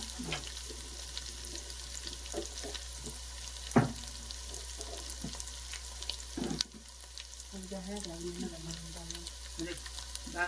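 Pieces of fish fried with onion and ginger paste in a large pot of Telugu fish curry: a low, quiet sizzle with occasional knocks and stirring sounds, a faint voice speaking toward the end.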